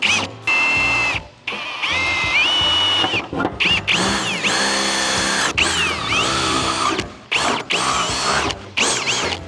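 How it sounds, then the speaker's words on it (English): A power drill with a 4mm bit bores holes in a GWM Cannon for a snorkel mount, loud close whining runs that rise and fall in pitch as the bit bites, stopping briefly between holes. "So we've got a 4mm drill bit, then we're gonna go up to an 8mm and drill these out to 8mm."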